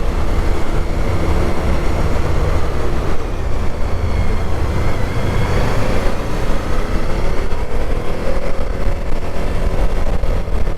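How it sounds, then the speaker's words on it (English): A 2023 Suzuki V-Strom 1050DE V-twin motorcycle engine on the road, a loud continuous rumble blended with rushing wind, steady throughout with a gradual rise and fall in pitch as the bike changes speed. "It is a V-twin engine, unlike the other V-Strom, which was a parallel twin."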